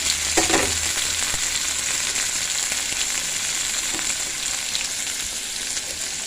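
Onion, green chilli and tomato sizzle in hot oil in a pan, a steady close frying hiss with occasional scraping stirs near the start and no voices.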